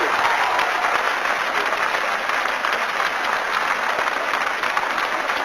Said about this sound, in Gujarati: જોરથી તાળી પડવી જોઈએ.